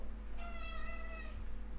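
A house cat meows once, a clear drawn-out call close by over a low steady hum indoors.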